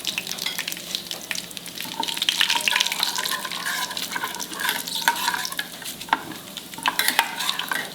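Cumin seeds sizzle and crackle in hot oil for khichadi, a close, continuous frying hiss with sharp pops and stirring scrapes.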